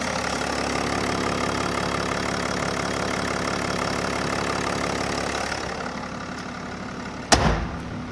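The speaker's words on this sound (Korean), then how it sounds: "엔진을 한 들어드릴게요." A BMW 7 Series sedan engine idles close by with the hood open in a steady, even rumble, with a sharp thud near the end.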